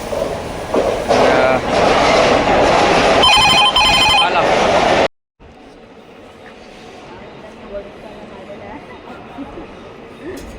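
A passenger train running on the Mumbai line, a loud steady rumble with bell-like ringing tones, then an abrupt cut to a quieter, more distant interior hum.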